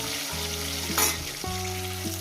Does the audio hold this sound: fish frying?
yes